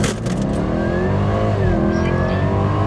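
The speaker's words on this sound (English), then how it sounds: "I'm just going to slam accelerator to the floor" Jaguar F-Type SVR fitted with cold air intakes accelerating hard from a standstill, its engine roaring loudly and rising in pitch through the gears, heard close up.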